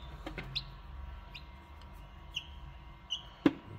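Newly hatched chicks give a few brief, high chirps scattered over a quiet, faint background, spaced apart rather than in a steady chorus.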